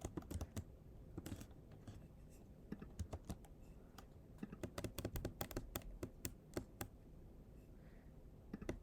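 Python code being typed on a computer keyboard: quick irregular bursts of key clicks with short pauses, close and fairly quiet, no talk.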